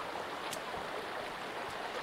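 Stream water flows continuously in the Sons of the Forest video game, a steady broadband rushing and babbling that stays close and fills the whole moment with no voices.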